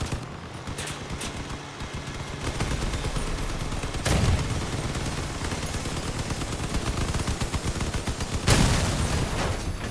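Machine gun fire in the vehicle combat game Crossout, a sustained loud rapid stream of shots with louder booming bursts standing out at intervals.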